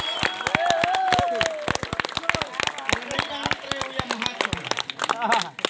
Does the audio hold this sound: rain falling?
no